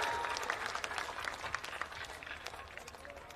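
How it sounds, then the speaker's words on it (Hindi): An outdoor crowd at a Bihar Badlaav Yatra public meeting in Amanour block, Saran, claps vigorously, with sharp overlapping hand claps that gradually thin out, and a voice is heard beneath the applause. "एक बार मैं चाहूंगा कि आपके धरती के लाल उज्ज्वल जी के लिए एक बार जोरदार ताली बजाइए"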